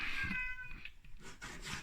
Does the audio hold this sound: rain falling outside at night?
no